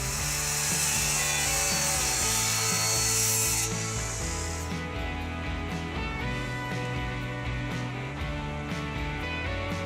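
A saw cuts through wooden roof rafters for a pool house frame, a steady continuous grinding rasp running the whole length, close and fairly loud, with no talking.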